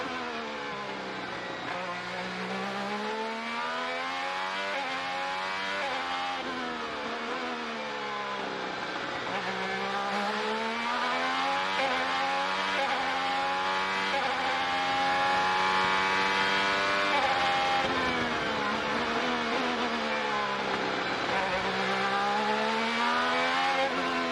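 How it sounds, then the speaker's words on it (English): Onboard IndyCar race car at the Long Beach street circuit during practice, the engine screaming loud and close, rising through gears and dropping on downshifts for corners, with no break. "as we ride on board with Will Power, courtesy of Verizon"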